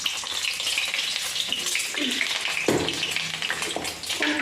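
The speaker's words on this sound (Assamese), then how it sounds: "কণীকেইটা অলপমান ফ্ৰাই কৰি লওঁ।" Eggs frying in a pan at home for a rice meal with potatoes, a steady close sizzle with occasional stirring and scraping noises throughout.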